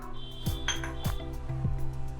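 A spoon clinks against a bowl while batter for tomato poori is stirred with a pinch of turmeric, a few sharp metallic taps close up with soft scraping between.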